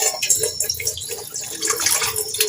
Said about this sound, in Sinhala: අපි මේකට වතුර ටිකක් දාලා බලමු රයිස් කුකර් එක නියමිත විදිහට වැඩ කරනවද කියලා